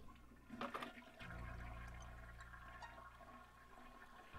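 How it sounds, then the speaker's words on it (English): A toilet flushes inside the PC horror adventure game Phantasmagoria, a loud low rushing swirl of water that starts after a brief clatter and keeps draining steadily to the end, with no voices. "You actually hear the toilet flush."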